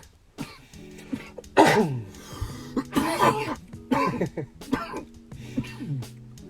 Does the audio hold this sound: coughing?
yes